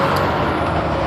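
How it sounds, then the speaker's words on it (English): Truck air brakes hissing on a road, a loud, close, continuous broadband whoosh under heavy engine rumble. "you see how loud these things are? Like, it isn't their fault that, like, this truck"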